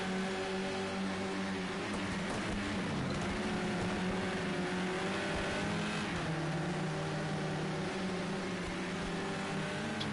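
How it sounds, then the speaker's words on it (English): Touring cars racing at dusk on the Silverstone National circuit in a modern touring car championship finale, engines droning steadily with shifting pitch as cars pass, continuous and fairly loud with no talk. "Still all 15 cars running in this race."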